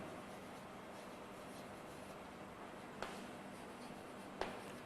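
Chalk or marker writing on a board during a chemistry lecture on covalent bonding, a faint steady scratching over room noise, with two brief taps.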